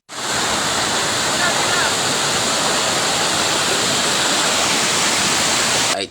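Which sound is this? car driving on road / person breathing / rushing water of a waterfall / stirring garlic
rushing water of a waterfall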